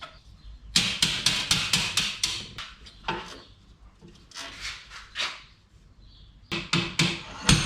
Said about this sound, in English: see if we can kind of hammer this over